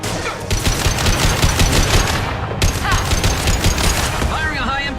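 Gunfire in the video game Mass Effect 2, a dense run of loud rapid shots and bursts with sharp impacts, continuous throughout, close and dominant, with game voices faintly mixed in.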